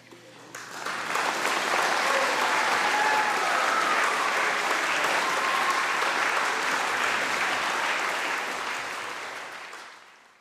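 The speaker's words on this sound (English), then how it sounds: "some of those deaf people cheering in the Scottish Parliament" A crowd in the Scottish Parliament applauds and cheers after a sign language bill passes, a loud, sustained wash of clapping that swells quickly, holds for several seconds, then tapers away.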